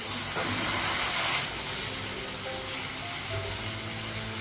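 Water poured into a hot pan for egg curry sets off a loud, close hiss of steam and sizzle that is strongest in the first second and a half, then settles into a steady, softer bubbling sizzle.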